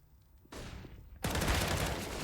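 Gunfire from Counter-Strike: Global Offensive: a short burst of shots, then a much louder, dense stretch of rapid firing fills the rest, harsh and close.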